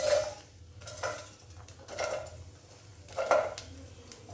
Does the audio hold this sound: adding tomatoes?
yes